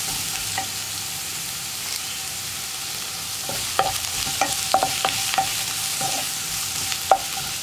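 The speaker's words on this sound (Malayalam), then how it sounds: "ഇനി സവോള ഒന്ന് നന്നായിട്ട് വഴന്ന് വരുന്നത് വരെ ഇളക്കി കൊടുക്കുക" Sliced onions sautéing in a pan for an eggplant milk curry, a steady soft sizzle with intermittent clicks and scrapes of a spoon stirring, close and moderately quiet.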